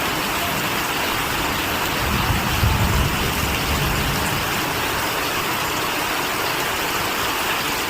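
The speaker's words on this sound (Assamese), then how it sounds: "এতিয়া বৰষুণ দি আছে আমাৰ ইয়াত।" Steady rain pours down during a storm in lower Assam: a dense, even hiss of falling water that runs unbroken throughout, with a slightly heavier low rumble of surface noise near the middle and no voices.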